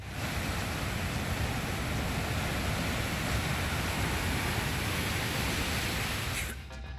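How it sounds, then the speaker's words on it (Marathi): Water overflowing from the Shirwalwadi storage lake in Akkalkot taluka after heavy rain makes a steady, dense roar of rushing water, loud and unbroken, cutting off abruptly just before the end with no voices. "अक्कलकोट तालुक्यातील शिरवळवाडी साठवण तलाव ओव्हरफ्लो झाला।"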